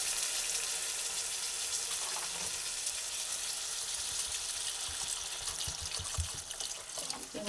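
Water poured from a pot into a hot cooking pan of rice, papaya and potatoes, giving a steady sizzling, bubbling hiss with a trickling flow that runs throughout and swells slightly toward the end.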